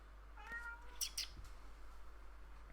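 A house cat indoors gives a short meow followed by a couple of brief sharp vocal chirps, faint and close against a quiet room with a low hum.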